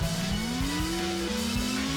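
A fast car in the video game Racing Lagoon accelerates hard, its engine tone climbing steadily and then shifting up a gear, loud and continuous with no talk.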